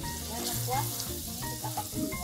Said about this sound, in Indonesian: ini kita tumis aja sampai dia udah mulai, warnanya mulai jadi lebih tua